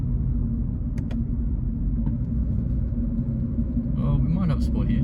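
A 2023 Subaru BRZ drives along a road, heard from inside the cabin as a constant low engine and road rumble, with a brief voice near the end.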